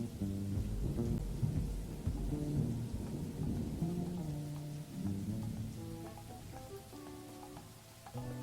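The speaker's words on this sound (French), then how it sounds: "Il pleut dehors?" Rain falls outside in the video game IFSCL: a soft, steady patter sitting quietly beneath tonal in-game music.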